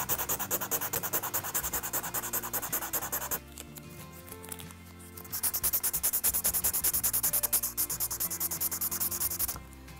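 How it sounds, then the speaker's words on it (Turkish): Close, rapid rubbing of sandpaper in quick back-and-forth strokes on a burr of a diecast Hot Wheels Ferrari Testarossa, with a short pause midway before the scratchy sanding resumes. "Şurada hatta bir çapak gördüm. Önce onu zımparalayacağım ki daha sonra elimize dolanmasın."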